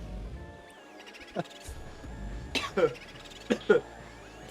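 Several short, dry coughs burst out in a quick cluster, fairly close, against a quiet room with low background noise.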